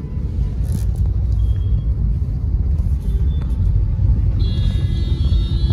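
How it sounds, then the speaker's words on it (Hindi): Heavy road traffic in Delhi near ISBT: a steady, loud low rumble of engines and passing cars throughout, with a brief higher engine whine toward the end and no talk. "ये देख लो दिल्ली में ट्रैफिक कितना है, बहुत ज्यादा।"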